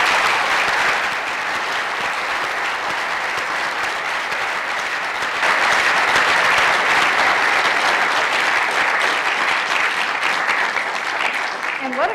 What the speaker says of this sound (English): We need to stop and give Nina one more round of applause